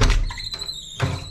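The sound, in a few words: door being opened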